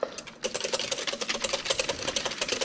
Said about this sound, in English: And you're whisking until all the oil is incorporated